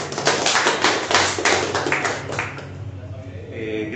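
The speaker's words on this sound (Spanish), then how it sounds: "También merece un aplauso" Audience applause at a cultural centre event, a burst of dense hand clapping from a small crowd that fades out after a couple of seconds, with quiet room sound remaining.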